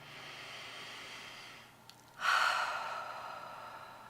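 A single deep breath is drawn in through the nose during a gentle chair yoga session, heard as a soft, close rush of air that swells and then trails off slowly after a quiet pause.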